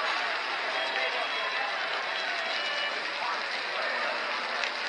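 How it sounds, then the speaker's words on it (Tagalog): Heavy rain pours steadily during a lunch break at a Decameron all-inclusive resort, a dense, even hiss filling the whole stretch without pause. "Lakas ng ulan."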